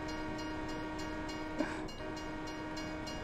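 A train horn sounds in Farming Simulator, a single short blast over a loud, steady engine drone and rhythmic rail clatter, with no talking.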